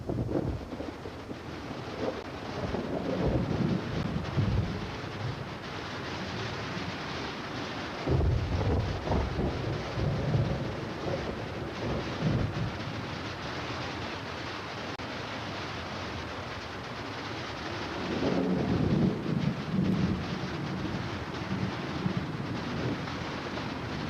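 Heavy rain and wind with rumbles of thunder sweep over a forest in a sustained storm, loud, steady and unbroken, swelling in several gusty surges with no voices.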